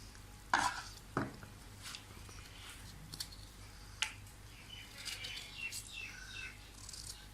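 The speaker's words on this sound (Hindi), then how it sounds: "छोटे छोटे टुकड़ों में ऐसे काट लें" Knife taps on a cutting board as seeded fruit is chopped into small pieces for fruit chaat: a few sharp, scattered clicks, quiet and close, with long pauses and faint background chatter.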